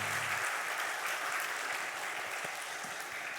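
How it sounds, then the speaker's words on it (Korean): Congregation applause during a Sunday church service, a steady dense clapping from a roomful of people that holds at an even level for the whole stretch without talk. "우리 박수 한번 하겠습니다"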